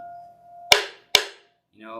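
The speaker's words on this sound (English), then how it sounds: "this is the bell, okay? So bells sound like this." A bell struck twice during a mindfulness practice, each hit sharp and near with a short fading ring, over a faint steady hum, followed by a brief voice at the end.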